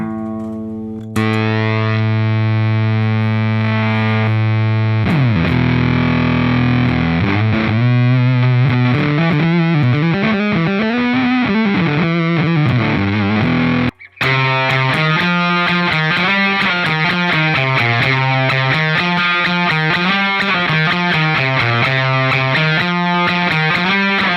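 Electric guitar driven through a Frecci Instruments Fuzz 66 pedal, loud and saturated with thick fuzz distortion: a sustained chord, then a run of bending, wavering notes, a brief cutout, and busy fuzzed phrases to the end.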